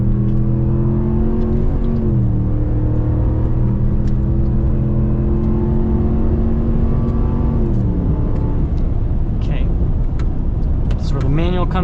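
A 2022 Ram 1500 Rebel GT pickup accelerates hard at full throttle off-road, its engine drone rising in pitch through gear shifts, loud and steady from inside the cab, with people talking over it.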